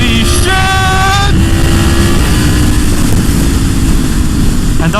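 Yamaha MT-10 1000cc naked motorcycle accelerating at half throttle, loud and close with a rising engine whine and heavy wind roar over the rider's microphone.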